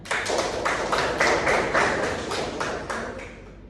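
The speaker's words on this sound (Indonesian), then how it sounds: "Beri tepuk tangan." Hands clap in a quick, even rhythm for a few seconds in a classroom, about a dozen close, crisp claps that fade slightly toward the end.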